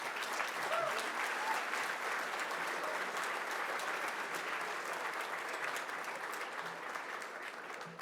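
Audience applause at a formal awards dinner as a speaker is welcomed to the podium: steady, dense clapping from a large room, even and sustained for several seconds before slowly tapering.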